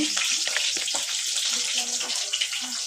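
Onions frying in a pan for mutton liver curry sizzle steadily, with a few soft scrapes and stirs close by and no voices.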